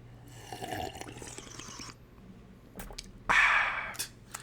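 Real water sloshing and pouring, with soft splashy bursts and a louder gushing pour near the end, heard fairly close amid quiet background noise.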